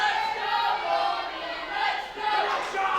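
A wrestling crowd at a Target Wrestling High Octane Championship match roars and cheers for Robbie X in a dense, sustained wash of voices that swells and dips.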